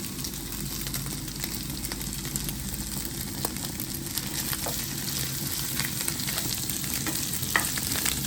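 Chicken pieces frying in oil in a pan for chicken fried rice, a steady dense sizzle close by with occasional stirring clicks.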